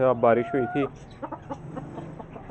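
Hens on a farm cluck noisily in a quick series of calls close by, then fade into softer clucks while someone speaks over them.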